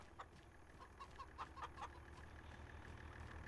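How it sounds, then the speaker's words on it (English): Farm chickens cluck in the Farming Simulator 25 video game, a quick run of soft clucks early on over a low, steady ambient hum, quiet and somewhat distant, with no talking. "There's our chickens clucking away."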